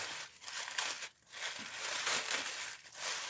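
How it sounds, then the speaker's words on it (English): Tissue paper wrapped around a package is pulled open up close, giving loud, continuous crinkling and rustling with brief pauses between handfuls. "So yeah, this is my package. Going to unwrap"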